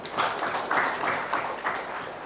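An audience at a university symposium applauds with a dense, steady patter of many hands clapping, heard at a moderate distance for a couple of seconds.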